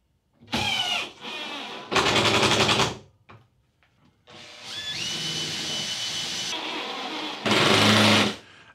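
A power drill whirs in several short bursts, then a longer steady run with a rising pitch as a screw is driven into the bracket of a shop-built table saw fence, held in place with a pin.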